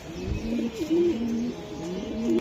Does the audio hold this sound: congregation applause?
no